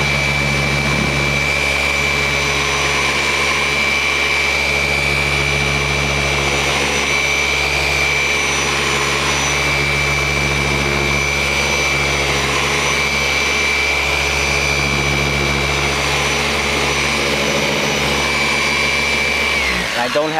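A car polishing machine whirs steadily and loudly while all-in-one polish is worked over the paint of a vehicle on a mobile detailing job, holding a constant high pitched drone for about twenty seconds before winding down.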